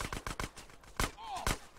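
Gunshots in Grand Theft Auto: San Andreas, a string of sharp separate cracks, about six in under two seconds, irregularly spaced with a brief whistle-like tone between them.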